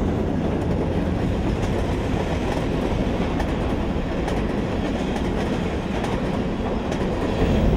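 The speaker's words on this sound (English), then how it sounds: "Oh, that's the train." A train passing through Radium Springs, New Mexico, a loud, continuous rumble and rattle of rolling cars that holds steady throughout with no voices over it.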